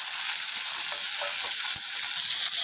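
Onion, green chilli and tomatoes frying in oil in a pan, a steady bright sizzle with soft stirring scrapes underneath, close and continuous.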